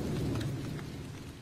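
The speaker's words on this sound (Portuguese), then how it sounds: "A chuva." Heavy rain pours down with a deep rolling rumble of thunder underneath, loud at first and easing slightly as the low roar fades.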